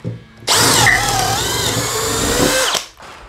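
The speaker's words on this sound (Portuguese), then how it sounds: "Começando o teste de perfuração em madeira com madeira de pinos. O primeiro furo será feito com a broca 3 pontas de 10mm." A Bosch GSB 185-LI cordless drill bores a 10mm brad-point bit into pine, a loud steady whine that spins up suddenly, holds for about two seconds, then winds down. Nobody speaks.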